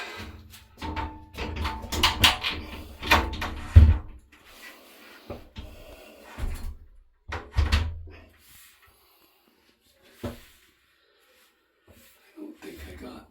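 Clattering knocks and shuffling bumps come from a frameless shower door being hung during a bathroom installation, irregular and close. Sounds cluster early, then space out into sparse taps with quiet gaps between them.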